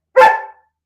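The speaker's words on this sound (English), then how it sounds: "you're not gonna stay here barking the whole time" A single loud, close dog bark, one short sharp woof indoors, alone with no talking.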